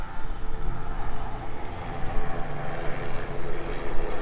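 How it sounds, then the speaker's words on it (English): A tour helicopter drones overhead in Myrtle Beach with a steady, pulsing rotor chop that stays loud and continuous throughout. "There goes another helicopter tour."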